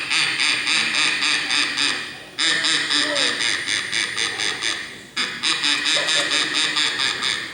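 A voice imitates ducks quacking at a small pond in a forest during a live stage performance, a dense, rapid run of nasal quacks in three bursts separated by short pauses.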